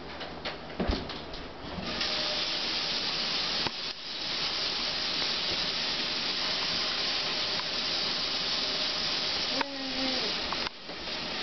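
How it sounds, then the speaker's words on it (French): Water running steadily from a kitchen tap while hands are washed, a continuous close hiss with a couple of brief clunks and splashes near the start and end. "laver les mains"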